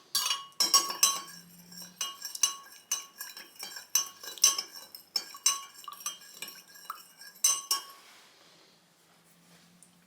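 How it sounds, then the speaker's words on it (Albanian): A spoon stirs sugar into warm water in a bowl while preparing bread dough, giving close, rhythmic metallic clinks that come in quick bursts and fade out near the end. "Përzim derisa të shkrihet."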